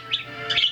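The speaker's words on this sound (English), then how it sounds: "some chirping, chortling, singing" Pet budgies chirp and trill in short bright bursts, two clusters of twittering close by with a quiet gap between, no voices present.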